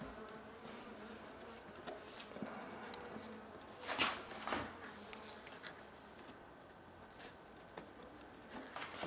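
Honey bees, a Russian strain, buzzing around an open hive, a soft steady drone of many insects with a few closer passes rising briefly above the hum.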